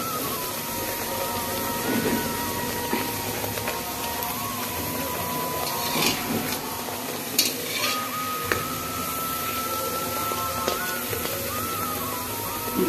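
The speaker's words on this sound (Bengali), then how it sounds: "লুচিগুলো আমি ভাজছি সানফ্লাওয়ার তেলে" Luchi fry in sunflower oil with a continuous bubbling sizzle, joined by occasional utensil clinks and scrapes against the pan throughout.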